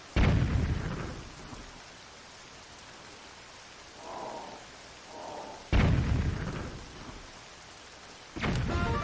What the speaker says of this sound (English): The fact it's raining doesn't help.